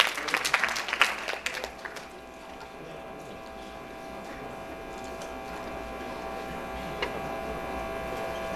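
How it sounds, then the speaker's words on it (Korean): Applause from a university lecture audience greeting a student singer, a burst of clapping at the start that fades after about two seconds into a quiet room hum. "여러분 큰 박수로 맞아주시길 바랍니다"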